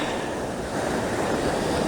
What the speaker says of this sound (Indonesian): Lautan ya, lautan dan pantai ya.